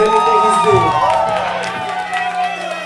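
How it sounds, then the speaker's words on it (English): Crowd cheering and whooping at a death metal gig in a small Indianapolis club, the Melody Inn, loud and close, with shouts over a steady wash of noise that fades a little toward the end. "I just want to give him the best applause"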